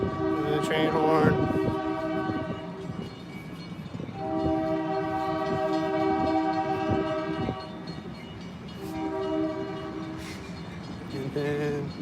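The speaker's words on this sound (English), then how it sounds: "And the train horn." A train sounds its horn in long sustained chords, sounding three times with pauses between, loud and fairly close over the rumble of passing rail cars; someone speaks briefly.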